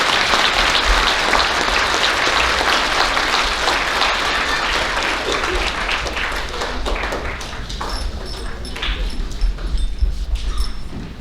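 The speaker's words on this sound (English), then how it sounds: "Please give them a round of applause." An audience claps through a school awards ceremony at DeShazo Elementary, a sustained, dense burst of applause that tapers slightly, then picks back up with scattered louder claps and faint high chimes near the end.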